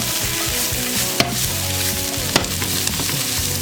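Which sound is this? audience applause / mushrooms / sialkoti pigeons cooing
mushrooms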